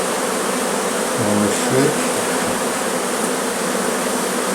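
A dense, steady buzz of many honeybees hums throughout during a transfer from a nucleus hive to a full hive, with a few brief knocks and a short spoken phrase nearby.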